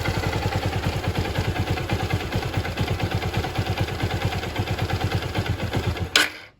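A Honda XR150L motorcycle engine with a reworked carburetor idles with a rapid, steady thumping rhythm, close and loud, then stalls abruptly near the end with a brief clunk before falling silent.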